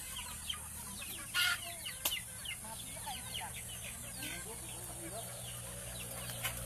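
Chickens on a farm cluck in short, scattered bursts at close range over a steady background hum, with an occasional louder squawk.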